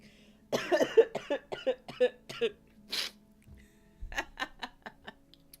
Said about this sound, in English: now I'm going to cough because I'm laughing